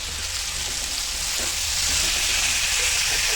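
Tomatoes sautéing in a pan for a native bitter gourd thokku give off a steady, loud, unbroken sizzle that grows slightly louder toward the end, with a faint low hum underneath.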